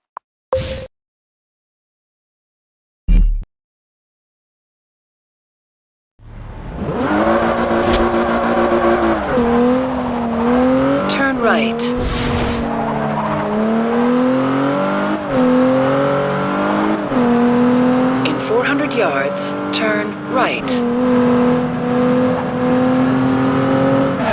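Cars rev and accelerate through a shakedown run in Forza Horizon 2 after a few sharp clicks and near silence, giving loud, sustained engine roars that rise and fall with gear shifts, with no talk.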